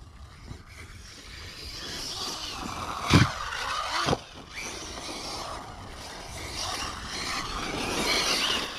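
A Hobao Hyper VS2 RC buggy on a 4S setup with a 4068 2000kv motor and Starpin tires drives across a lawn, making a faint, varying whir with two brief sharp scrapes or swishes partway through.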